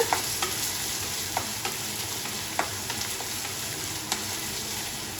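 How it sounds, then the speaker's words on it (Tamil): Crushed shallots, garlic and curry leaves sizzle steadily in hot oil for a Tamil chili chutney, with a spoon scraping the pan in sharp clicks every second or so, close and alone. "சின்ன வெங்காயமும் பூண்டும் நல்லா வதங்கட்டும்"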